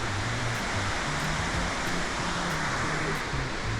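Victoria Falls in Zimbabwe, at the main falls: a constant, even roar of heavy falling water, loud and unbroken, with no voices.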